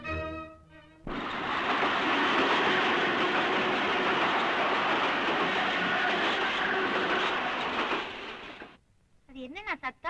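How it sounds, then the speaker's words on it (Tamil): An electric train runs close by as a loud, steady rumbling roar for about eight seconds, then cuts off abruptly. Voices are heard briefly before and after it. "பக்கத்துல எலக்ட்ரிக் ட்ரெயின் ஓடுது."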